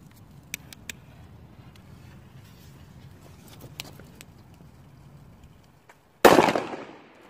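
Faint outdoor background with a few small pops, then one sharp, loud bang from a Komet D-Böller firecracker on New Year's Eve that decays over about a second.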